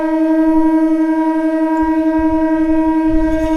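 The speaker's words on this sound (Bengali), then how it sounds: "এই সামনে আসছে দীঘা ট্রেন" A Panskura-Digha EMU local train pulls into a platform at Panskura Junction, its loud, steady electric horn tone held without a break, with a faint low rumble of wheels building underneath.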